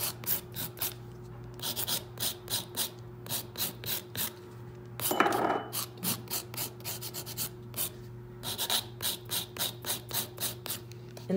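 Rhythmic back-and-forth strokes of a hand file smoothing the ridge of an acrylic nail tip, close and clear, in steady bursts with a short rougher scrape partway through and a low steady hum underneath.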